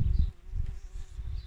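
Bees buzz around strawberry flowers in a garden patch, close and continuous, with a low droning hum and some rustling and handling noise underneath.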